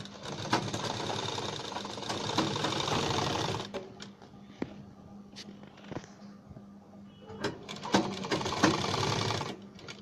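A sewing machine stitches along the neck of a blouse in bursts: a dense, rapid mechanical whir runs for a few seconds, pauses with faint clicks, then starts again nearby while a person talks quietly.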